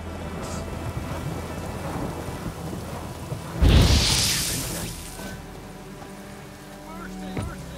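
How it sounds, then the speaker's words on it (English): Rain falls steadily through a stormy scene in The Witcher 3: Wild Hunt, and a loud thunderclap breaks midway, then rumbles and fades while the downpour goes on. "Rain"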